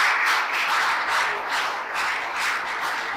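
Church congregation applauding God during a worship service, a continuous dense clapping that swells and dips in waves for a few seconds, with no talk over it.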